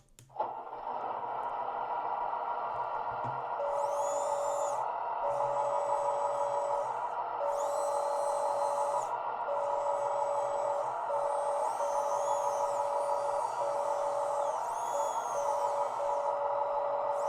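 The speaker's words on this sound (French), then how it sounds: "vous allez voir qu'en même temps qu'il y a un bruit hydraulique, le RPM du moteur va descendre" A steady electronic engine drone from a BEIER SFR-1D sound module in an RC construction machine, with a repeated high hydraulic whine rising and falling in bursts as engine RPM dips.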